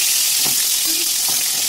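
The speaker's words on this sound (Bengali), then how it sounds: "এবারে গরম তেলের মধ্যে নুন হলুদ মাখানো আলুগুলো আস্তে আস্তে ছেড়ে দিচ্ছি ভাজার জন্য।" Salt-and-turmeric coated potatoes being slipped into hot oil for chicken biryani, a loud, dense continuous sizzle with a couple of soft taps from the pieces going in.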